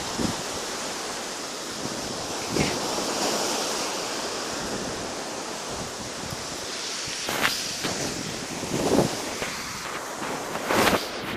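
Ocean waves wash steadily onto a beach in Naha, a broad continuous surf roar with a few louder breaking swells, no voices over it.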